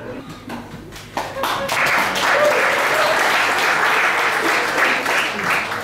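Audience applause at a stand-up comedy show, a few scattered claps quickly swelling into steady, dense clapping that fills the room and holds to the end, with faint voices underneath.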